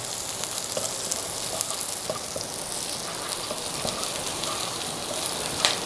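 Garlic frying in a pan for beef hor fun, a steady close sizzle with scattered pops and crackles throughout, no voices.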